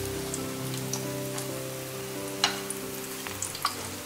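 Vegetarian food frying in a pan for a meatless braised dish, a steady dense sizzle with a low hum beneath and a few sharper pops and crackles, close and alone without speech.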